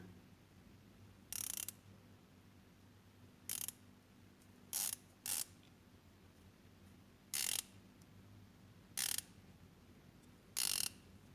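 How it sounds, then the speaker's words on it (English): The 120-click bezel of a Phoibos Reefmaster PY016C dive watch is turned in seven short bursts of rapid, crisp ratcheting clicks separated by pauses, close up and quiet, with no voices. "Well machined, grippy 120 click bezel with a really solid action."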